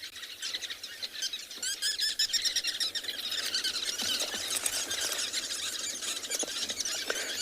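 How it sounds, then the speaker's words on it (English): A dense chorus of birds calling and squealing noisily on an afternoon safari at Tswalu in South Africa, high chirps layered continuously and fairly close throughout. "there's a lot of birds making a lot of noise."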